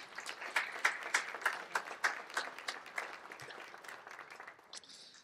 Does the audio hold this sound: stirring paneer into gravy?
no